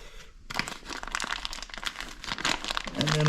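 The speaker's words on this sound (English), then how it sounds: "I've just got my toolkit stuffed in a plastic bag to keep it nice and dry" A plastic bag holding a motorcycle toolkit crinkles and rustles up close, after a brief quiet start, with busy handling noises continuing throughout.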